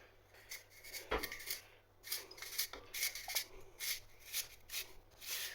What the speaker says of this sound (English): This is my spiralizer, so I'm going to have a go and shred this one.